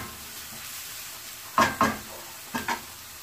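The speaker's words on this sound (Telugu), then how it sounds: "ఉల్లిపాయ పచ్చిమిరపకాయ సన్నగా కట్ చేసుకోవాలి. ఇవి కొంచెం గోల్డెన్ బ్రౌన్ కలర్ వచ్చిన దాకా వేయించుకుందాము" Thinly sliced onions and green chillies frying in oil for Andhra-style prawn fry, a soft low sizzle broken by a few loud close clatters of stirring, two pairs in quick succession, no voices.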